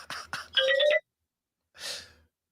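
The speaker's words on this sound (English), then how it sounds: "That was an appropriate ringtone." A phone ringtone plays a short rising electronic melody of a few clear tones, then falls silent. After a pause comes a breathy, noisy sound, all close and moderately loud.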